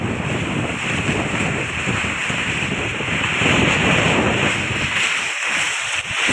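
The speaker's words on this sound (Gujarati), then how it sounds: "ફૂલ વરસાદી માહોલ અને ફૂલ પવન" Strong wind with rain in Rajula roars as a loud, continuous broadband rush with gusty surges, dominating throughout without speech.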